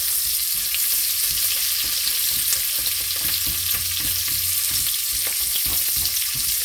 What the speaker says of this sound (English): We saute everything, the onion and the garlic.